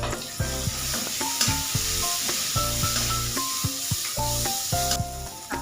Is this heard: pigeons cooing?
no